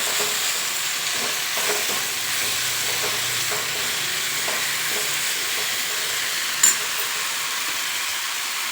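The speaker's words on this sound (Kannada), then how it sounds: "ಗೋಡಂಬಿನ ಹಾಕೋತಾ ಇದ್ದೀನಿ ನಾನು ಇದು ಸ್ವಲ್ಪ ಫ್ರೈ ಆಗಬೇಕು" A few cashews fry in oil in a pan over a medium flame, giving a steady, close sizzle with faint scraping stirs and one brief sharp clink near the end.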